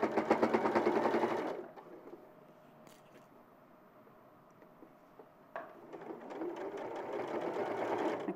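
A sewing machine stitches along a pocket edge in a fast mechanical whir, stopping for a few seconds of near quiet before starting up again and running steadily.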